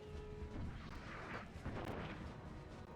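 Artillery fire in a Napoleonic war game, FCN mod: dense, continuous booming and crackling blasts rumble throughout with no clear pauses, a steady, busy din of battle at moderate distance.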